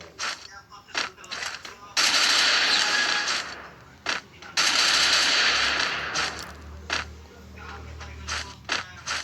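Rapid automatic gunfire from the Free Fire mobile battle game plays in dense, loud bursts, broken by scattered single shots and clicks, with no voice in the clip.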